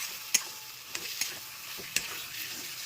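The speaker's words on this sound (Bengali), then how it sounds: "আলু সমেত মশলাটা সুন্দরভাবে কষিয়ে নেব।" Mashed potato sautéed with spices in a pan: a few sharp spoon scrapes and taps against the metal over a soft steady sizzle, close and quiet, with no voice.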